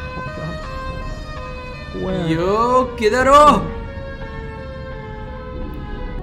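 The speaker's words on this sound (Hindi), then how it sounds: "साइरन हेड की आवाज।" Siren Head's siren call in a video game: a loud wailing, wavering siren in two swells over steady background hum, with someone speaking briefly.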